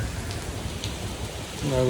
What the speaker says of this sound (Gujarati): અત્યારમાં પણ વરસાદ આવે છે બહુ